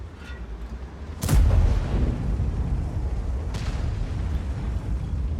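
A tank cannon in a tank video game, a Vz 55 with high caliber, fires one deep, heavy boom followed by a long rumbling tail and a fainter distant shot later, with light commentary underneath.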